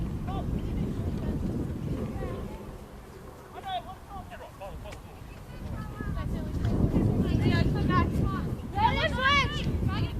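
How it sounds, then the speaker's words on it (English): Gusting wind roars steadily across the microphone at an outdoor women's league football match in Victoria, rising and falling in strength while voices call out over it. "Wind is gusting once again as we get back underway."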